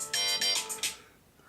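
A phone ringtone plays for an incoming call from a daughter, a bright repeating tonal melody in loud bursts that fades out after about a second.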